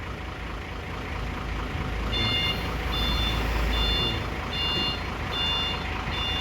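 Hino 500 truck sounding its reversing alarm after being shifted into reverse: a run of repeated high beeps in a steady rhythm over a continuous engine idle, close and clear, with no talk.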